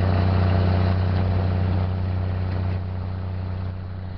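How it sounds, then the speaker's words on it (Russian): An electric commuter train travels through the jungle in Thailand, with a loud, steady droning rumble and a strong low hum that eases slightly in level over the few seconds. No one speaks. "А сейчас не будет ничего слышно, потому что электричка через джунгли."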